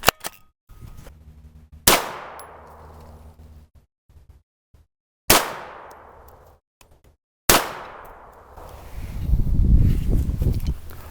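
Three sharp gunshots from a short-barrel 9mm American Hi-Point carbine fired with Blue Dot powder, each a loud crack with a decaying tail, spaced a couple of seconds apart, followed by a low rumbling wind noise near the end.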